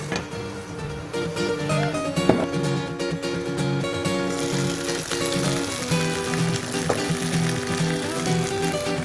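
Gyoza fry in a pan with sesame oil under a closed lid, giving a steady sizzle that grows denser and brighter partway through and continues evenly to the end.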